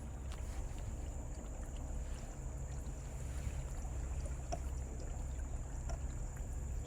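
A low, steady, quiet engine drone from a small boat, continuous, with faint water sounds and no talking.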